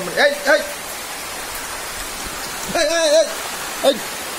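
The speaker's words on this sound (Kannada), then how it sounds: "ಈಗ ಸಹ ಒಳ್ಳೆ ರೀತಿಯಲ್ಲಿ ಮಳೆ ಬರ್ತುಂಟು" Steady rain hisses throughout, with a few short bursts of people talking over it.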